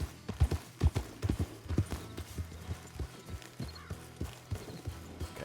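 Horse hooves in Red Dead Redemption 2, a steady rhythmic clip-clop of footfalls, fairly close and clear with no talk over it.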